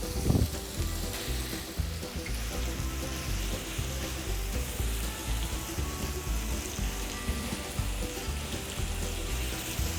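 Minced meat sizzles steadily in a pan with garlic ginger paste, a dense, continuous frying crackle close up with no voices.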